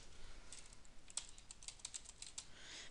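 Quiet typing on a computer keyboard while entering text into a Visual Basic 2008 program, light irregular key clicks in short bursts, close and soft, with no talk.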